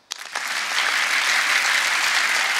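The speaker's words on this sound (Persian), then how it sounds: "دوستا باید تشویق کنین، تشویق کنین" A concert audience at a Logari music performance breaks into applause. The clapping starts with a few scattered claps, then quickly swells into loud, dense, sustained clapping from a large crowd.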